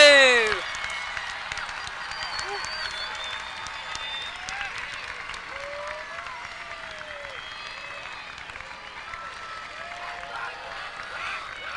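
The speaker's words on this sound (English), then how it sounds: "let's have one more round of applause for the Dalton High School class of 2022" A large crowd at a high school graduation ceremony applauds steadily for several seconds, the clapping dense and even, with a few cheers and voices mixed in.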